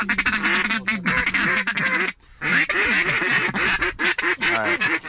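Ducks in a rain-soaked field quack loudly and densely in overlapping calls, a raucous chorus that drops out briefly before surging back.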